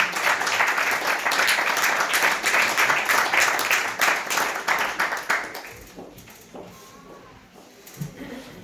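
A church congregation applauds in a loud, dense wash of clapping that lasts several seconds, then fades into quieter room sound with a few scattered noises.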